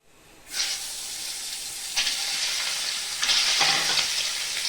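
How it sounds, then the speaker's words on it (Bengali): Egg coated in turmeric and salt hits hot mustard oil in a kadai, bursting into a close, loud sizzle that swells in bright hissing surges and keeps crackling steadily. "ডিমটা লাল করে ভেজে নেব।"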